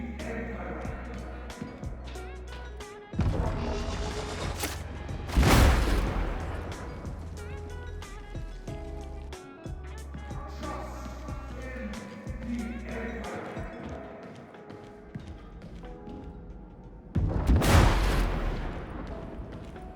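A plasma gun firing in a Warhammer video game, with a few loud heavy blasts spaced several seconds apart, each ringing out over a lower rumbling hum and scattered clicks.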